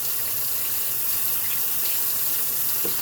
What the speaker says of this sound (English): Get it wet, get the sponge wet a little.